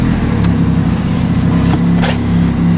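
A car fitted with a catless downpipe idles steadily, its deep, even exhaust drone loud and continuous throughout, with a couple of faint clicks over the rumble.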